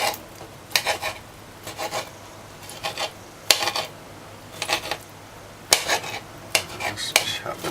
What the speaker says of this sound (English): Just chop them up a little.